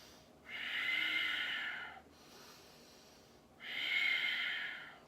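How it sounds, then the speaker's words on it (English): Two quick, forceful breaths taken during a seated chair yoga session, each a loud, breathy rush lasting over a second, with a quieter pause between them and no talking. "Let's take a couple really quick breaths."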